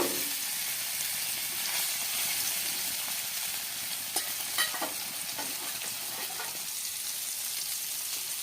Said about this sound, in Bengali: এবার আমি মাছটি তেলে ঢেলে দেব।